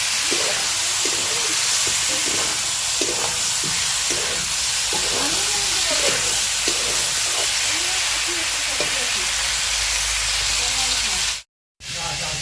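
Meat cooking in a pan sizzles with a constant dense hiss, close and loud, while a voice talks over it. The sound cuts out briefly near the end.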